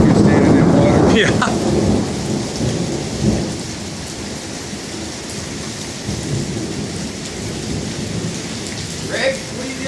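A thunderstorm in Wimberley: heavy rain hisses steadily close by while a deep rumble of thunder rolls at the start and fades, with a few faint voices in the background.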